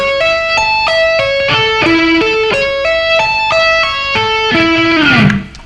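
Electric guitar plays a slow tapped arpeggio, each note sounded by hammer-ons and pull-offs in an even, stepping rhythm, ending on a bent, sliding note; clear, close and unaccompanied.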